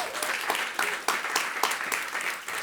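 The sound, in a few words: audience applause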